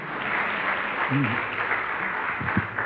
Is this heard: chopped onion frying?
no